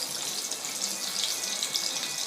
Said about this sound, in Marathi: तेल गरम झालेलं आहे। आता आपण वडे सोडायचे याच्यामध्ये।